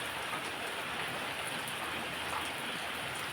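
Steady rain falls near a rural Thai house beside fields in the afternoon, a continuous, even hiss that holds at moderate level throughout with no voices.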